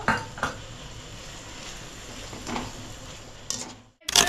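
A spoon scrapes and knocks against a pan while an onion and yogurt mixture for restaurant-style egg masala is stirred, with soft clinks and scrapes at a close, moderate level.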